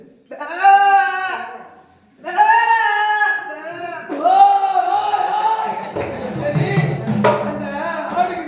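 Several drawn-out, wavering bleats from a large goat close by, coming in separate bursts with short pauses, followed by rougher mixed noise near the end.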